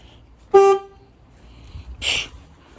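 The horn of an Opel Corsa D is tested, giving one short, loud, steady honk followed by a softer, noisier second blip about a second and a half later, close and in a quiet space.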